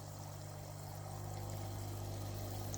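A HITOP aquarium air pump set to full drives air through a sponge filter, giving a steady, dense rush of bubbling water under a constant low mechanical hum, close and unbroken throughout.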